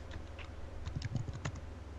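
Rapid, furious typing on a computer keyboard, a quick cluster of close clicking keystrokes in the middle over faint room noise.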